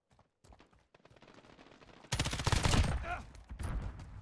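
Gunfire from the Modern Warfare beta video game: a quieter stretch of faint game sounds gives way to a loud, dense burst of rapid automatic shots.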